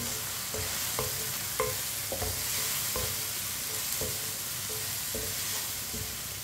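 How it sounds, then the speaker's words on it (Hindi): Red chili and turmeric spices cook in a pan for bhindi, a constant dense sizzle with regular scraping strokes of a spoon stirring at a steady pace, near and fairly loud. "आधा मिनट के लिए पका लेंगे मसालों को"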